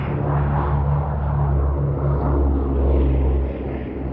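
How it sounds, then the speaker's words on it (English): The Boeing B-17G Flying Fortress Sally B throbs past at the IWM Duxford Battle of Britain Airshow, its piston propeller engines giving a loud, deep, steady drone with low pulsing tones. "the Boeing B-17G Flying Fortress named Sally B"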